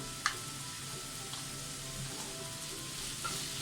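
Sliced onions sautéing with salt in a pan over low to medium flame for Thalassery beef dum biryani, a soft steady sizzle with a few faint clinks of stirring.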